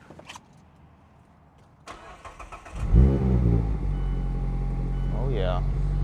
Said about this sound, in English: maybe let's hear this cold start